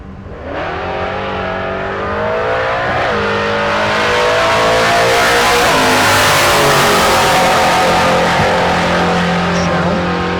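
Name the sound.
drag race car accelerating down the strip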